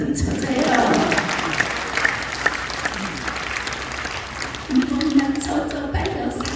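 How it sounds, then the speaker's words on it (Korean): An audience at a church seminar in the Chungcheong region breaks into steady, dense applause that fills the room, with a speaker's voice talking over the clapping. "이럴 때 박수 좀 쳐줘요."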